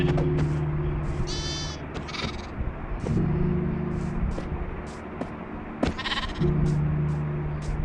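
A Minecraft goat gives several loud, close bleats, separated by stretches of low steady hum and background clicks. No one speaks.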